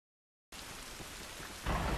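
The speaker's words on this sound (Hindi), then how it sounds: "क्या आवाज़ आ रही है बादल गरजने की" Steady rain pours in the video game The Last of Us, a dense hiss throughout that swells louder near the end, with no distinct thunder clap standing out.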